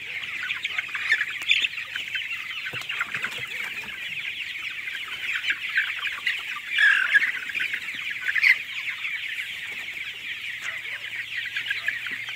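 A flock of desi hens and a rooster on a farm keeps up a constant overlapping clucking and squawking, near and busy, with a few louder calls standing out and no voices.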